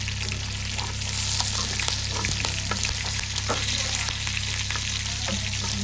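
Curry leaves and green chilies fry in hot oil in a pan for a Kerala-style fish head curry, giving a steady close sizzle with small crackles and pops throughout.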